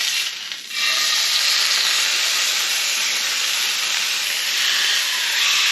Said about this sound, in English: So again, you want that hot initial sear, just to get that crust formed.